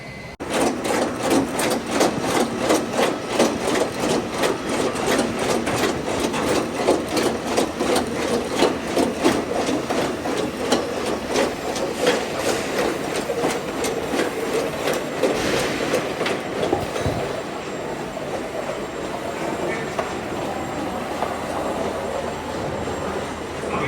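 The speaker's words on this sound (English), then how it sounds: "I'm just going to run this pallet down and I'll show you the unloading." A wooden pallet travelling down a roller conveyor, a continuous loud rattling clatter with a rapid regular rhythm of rollers knocking underneath, steady for the whole stretch and easing slightly toward the end, no talking.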